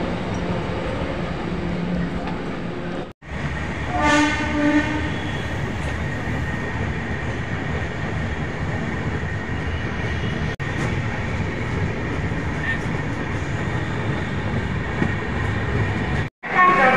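The Chambal Express pulls out of Durgapur station with a constant heavy rumble of wheels and carriages, a brief squealing tone early on and a few sharp cuts in the sound.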